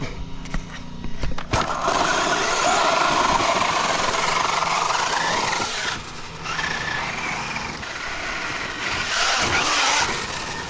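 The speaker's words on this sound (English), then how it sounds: "let me see how I can drive with just two-wheel drive" A Traxxas UDR RC truck drives in two-wheel drive, its electric motor whining over loud, continuous tire and gravel noise. The sound dips briefly mid-run and then surges again, with no talking.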